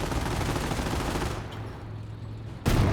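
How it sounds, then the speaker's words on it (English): Infantry rifle fire in Company of Heroes, a dense crackle of overlapping shots that fades, then a sudden loud burst returns near the end. "Still firing some shots in the engineers."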